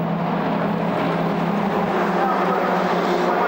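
A Ferrari 430 GT2 race car engine roars steadily at Monza, a dense, continuous, loud racing drone heard from a distance, with commentary faintly mixed in.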